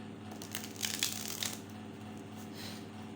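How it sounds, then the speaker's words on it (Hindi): A deck of tarot cards being shuffled by hand, a brief close riffle and rustle in the first half, then quieter handling of the cards. "कार्ड शफल नहीं हो रहे"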